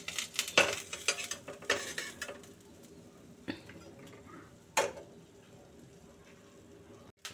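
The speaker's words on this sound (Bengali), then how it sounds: "মাছগুলো ভেজে তুলে রাখছি।" Koi fish fried lightly in oil being lifted out of a frying pan: a few sharp metal utensil clinks and scrapes against the pan over a faint, steady oil sizzle, with no talking.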